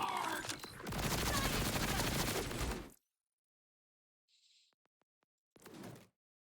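Borderlands 3 gunfire erupts in a loud, rapid automatic burst lasting a couple of seconds, followed by silence, a faint clicking sequence, and one more short burst.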